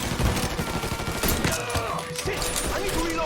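Heavy gunfire in the video game Mafia 3, dense overlapping shots and bursts with loud close impacts, continuing throughout under the game's noisy combat.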